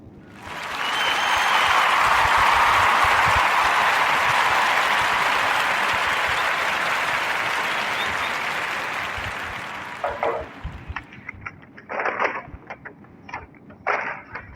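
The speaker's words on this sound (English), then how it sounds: "a warm Narrative Podcast round of applause for Mrs. Yahara Shahidi." Loud, dense applause from an audience rises quickly, holds steady for several seconds, then thins into scattered, uneven claps near the end.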